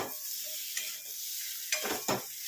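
A spoon stirs potato and pointed gourd curry in a pan over a quiet sizzle, with a few scraping strokes against the pan, two sharper ones near the end.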